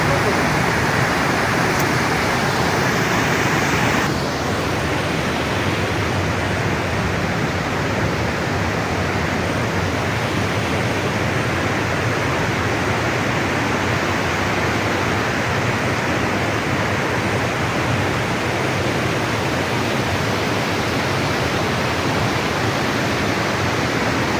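Loud, steady rushing roar of the Kwango River's water, a broad continuous wash that fills the whole stretch without a break, close and unvarying, with no voices.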